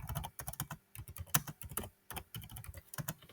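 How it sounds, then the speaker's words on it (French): Rapid keystrokes clatter on a computer keyboard as a search query is entered, quick irregular bursts of clicks with short pauses, close and quiet with no talking. "je vais écrire le vaccin de grippe"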